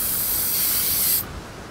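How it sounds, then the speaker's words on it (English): A loud, steady hiss of spray from the video game Outlast 2 runs for about a second, then cuts off abruptly and leaves a quieter background. "And it needs a bit of spray."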